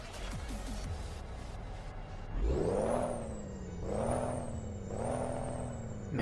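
Freightliner Coronado truck in American Truck Simulator cranks over, catches and settles into a deep diesel idle, with engine pitch swelling and falling in three slow revs after the start.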